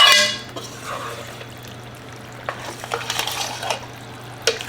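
Stirring white sauce into penne noodles for cheese baked pasta, close sticky squelches and scraping of a utensil against the dish, coming in irregular bursts over a low background hum.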